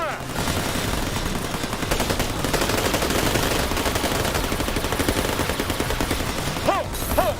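Sustained covering gunfire in the Tales from the Borderlands video game, a dense, loud barrage of automatic shots running throughout, with voices speaking over it.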